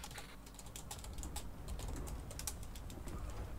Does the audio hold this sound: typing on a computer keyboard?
yes